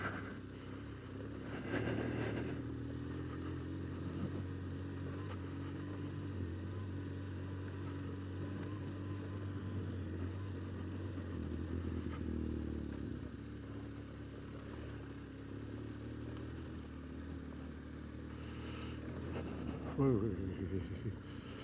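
A motorcycle grinds along a rough, holey woodland track. The engine drones steadily and shifts pitch over uneven ground, with clattering bumps and a sharp jolt near the end. A rider talks over it at times.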